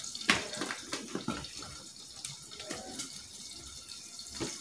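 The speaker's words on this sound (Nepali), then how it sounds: "थोरै पानी राख्छु" Water poured into a cooking pot of village-style chicken gravy, a faint splashing trickle with a few louder splashes and drips, heard alone.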